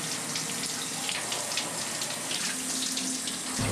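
Steady rush of shower water running in a video game scene, a constant broadband hiss that stays even and fairly loud throughout with no voices over it.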